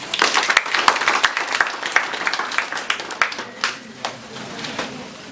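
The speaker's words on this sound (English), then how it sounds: "Clap for this guy." An audience of school students claps at a motivational seminar, a loud burst of many hands that thins into scattered claps and dies away.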